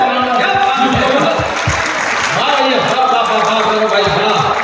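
Audience applause at a Hindi poetry gathering during a Jain Panchkalyanak celebration, a dense burst of clapping that fills the whole moment, with voices mixed in beneath it.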